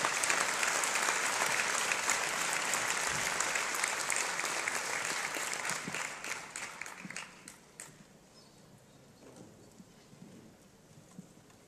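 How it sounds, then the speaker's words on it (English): Conference audience at a digital assembly in Sofia gives a long round of applause, dense and steady before thinning into scattered claps and fading to quiet. "a big applause of thank you"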